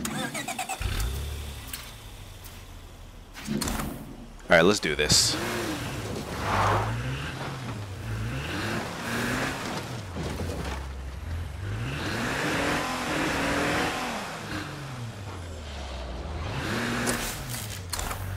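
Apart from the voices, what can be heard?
car engine starting and driving in video game State of Decay 2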